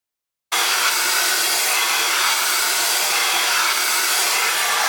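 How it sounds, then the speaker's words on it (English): Hair dryer blowing steadily on hair while a paddle brush pulls it straight, a loud continuous close-up airy roar starting after a short silence and holding unchanged. "putting the blow dryer touching it, always making it in a downward motion"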